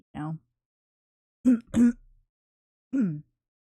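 Four short, harsh coughs from a person with asthma, close by: one, then a pair about a second later, then one more after a pause, with silence between.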